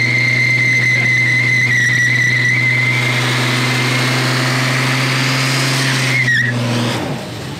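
A Ford Bronco II with a Holley Sniper EFI install revs hard, a loud, close, sustained engine roar with a rising whine and tire squeal, then a sharp cut-off near the end.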